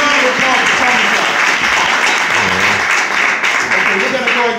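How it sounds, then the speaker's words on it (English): Steady, loud audience applause at a filmmaker event, a dense wash of clapping sustained throughout without a break. "Another round of applause for Tony Brown"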